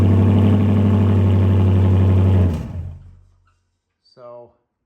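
A 2014 Dodge Charger idles with a loud, rumbling exhaust, its muffler separated from the pipe, then the engine shuts off and fades to silence before a brief voice speaks.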